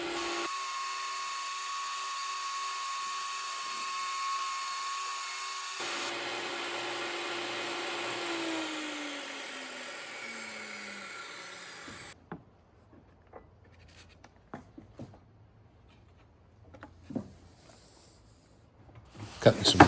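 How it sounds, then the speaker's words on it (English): Table saw cutting a recess into an insulated window insert: a high whining spin that holds steady and then winds down as the blade slows, followed by quieter clattering and handling knocks, with no talk. "I'm just running this through my table saw a couple times to go ahead and create a recess in this"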